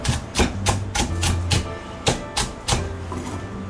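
A kitchen knife chops a screw pepper on a cutting board, sharp wooden knocks landing in uneven clusters, close and clear with no talk.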